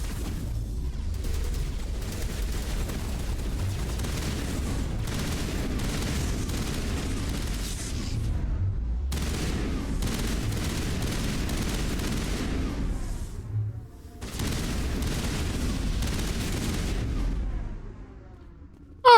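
Dense, continuous gunfire and booming explosions from a firefight in Mass Effect Legendary Edition, loud and sustained with only brief lulls, blasts rolling over one another.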